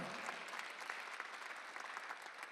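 A church congregation at a Sunday worship service claps in a steady, even patter of applause, fairly faint and distant, with no voices standing out.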